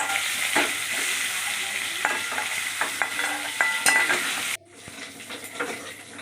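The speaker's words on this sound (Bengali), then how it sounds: "আবার ভালো করে নাড়াচাড়া করে করে চিকেনটাকে ভেজে নেব।" Chicken fries in oil in a pan with a bright continuous sizzle while a utensil stirs and scrapes in irregular taps, close up. The sizzle drops off abruptly partway through, leaving quieter clinks.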